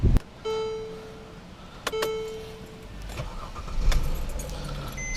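A Mercedes E350 W212 cranks and starts after a battery replacement: a short starter whir and electronic chimes, then the engine catches and settles into a low, steady idle, heard from close by inside the car.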